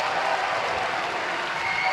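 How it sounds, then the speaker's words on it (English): Steady, dense applause from a basketball crowd at a Michigan women's home game, Michigan vs. Nebraska, fills the whole stretch at an even, fairly loud level with no break. "that hustle play draws applause from the Michigan faithful"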